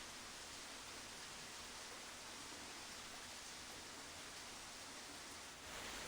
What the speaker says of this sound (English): it's torrential rain down behind you